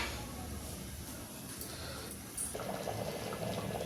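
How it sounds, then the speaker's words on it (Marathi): Sambar bubbles at a rolling boil in a pot, a faint, steady simmer that grows a little louder and busier toward the end, with no voices over it. "छान उकळी आली बघा, आपलं झालं सांबर तयार"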